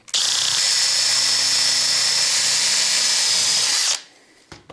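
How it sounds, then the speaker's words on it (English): A power drill bores holes for carbon fiber LiPo battery trays on a Traxxas X-Maxx RC truck, one loud, steady high-pitched whine running about four seconds close up, then cutting off abruptly with a couple of faint clicks after. "We got all 4 holes drilled."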